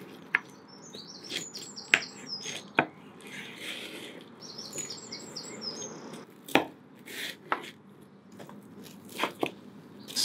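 A knife slicing down through smoked beef ribs, giving a few sharp, crunchy cutting strokes at close range with birds chirping faintly outdoors in the background.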